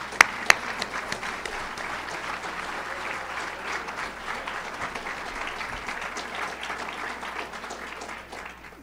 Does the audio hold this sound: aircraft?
no